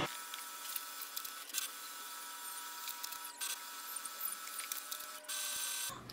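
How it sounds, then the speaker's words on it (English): HP OfficeJet 8012 printer running a scan, a steady mechanical hum and whir with faint clicks that holds for several seconds, then shifts to a slightly louder, denser tone near the end; no one speaks. "It will start the scanning process."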